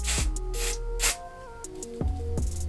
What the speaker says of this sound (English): I'm just going to spray some of my hard head spray